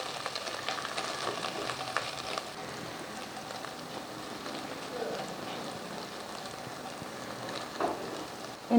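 Garlic and ginger frying in about a tablespoon of oil in a home kitchen, a faint steady sizzle with soft crackles throughout and no talking.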